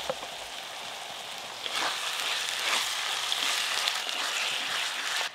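Onion, ginger and garlic frying together in a pan, a steady soft sizzle that swells louder partway through as the mixture is stirred, close and continuous with no talk.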